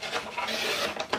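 A paper trimmer slides its blade across paper trimmed to 3.5 inches for a music-themed pen pal folder, giving a short, close rasping rub with a couple of quick scrapes at the end.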